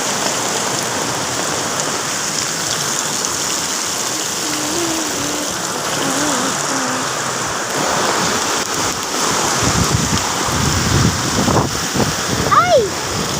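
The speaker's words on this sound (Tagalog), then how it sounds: "Lakas po ng ulan dito." Heavy rain pours steadily around people sheltering under an umbrella outdoors, a dense constant hiss close by, with a few brief voices and small knocks near the end.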